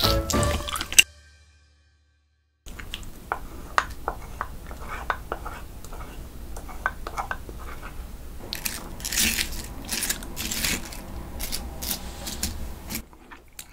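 Whole salmon being torn apart by hand and eaten: close, wet squishing, biting and tearing sounds in irregular bursts, louder toward the end, after a short silent gap near the start.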